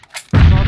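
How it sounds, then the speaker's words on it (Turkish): A grenade blast in the battle royale game PUBG on the Sanhok map, a single loud, close boom that bursts out suddenly after a faint lead-in and rumbles on to the end. "Bombanın patladığı yerde yedi."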